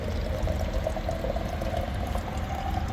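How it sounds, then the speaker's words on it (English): Washing-up water is poured out steadily on a road trip through France, a continuous close splashing rush with no talking. "that's washing up water for today."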